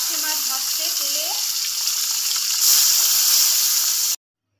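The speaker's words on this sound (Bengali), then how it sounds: "দিয়ে দিয়েছে পার্শে মাছ ভাজতে তেলে" Parshe fish coated in turmeric and salt sizzling in hot oil in a pan, a steady hiss that grows louder near the end, with faint voice-like tones early on before stopping abruptly.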